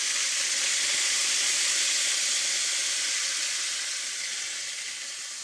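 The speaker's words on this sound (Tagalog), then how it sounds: "Yan po, nilalagyan na po siya ng toyo" Soy sauce hits a hot cooking pan, giving a loud, steady sizzle and hiss that slowly fades a little toward the end, with no talking.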